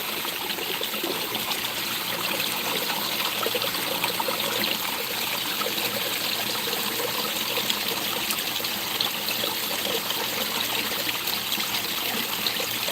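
Water splashing from a garden water feature's backflow outlet, a constant close rushing and trickling wash with no pauses, loud and even throughout.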